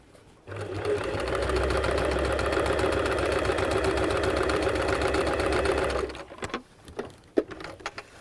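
A sewing machine stitches reverse applique on textile, a close, steady rapid chatter running for about six seconds before stopping, followed by a few faint handling clicks.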